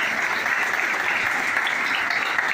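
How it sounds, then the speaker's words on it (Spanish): Audience applause at a rally awards ceremony in Santiago del Estero, a steady dense wash of clapping from a crowd, loud and continuous throughout without a break. "Fuerte los aplausos a ti."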